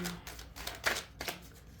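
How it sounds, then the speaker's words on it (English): Tarot cards are shuffled close by, with soft riffling flicks and a few sharper snaps in quick, uneven bursts. "We're gonna shuffle."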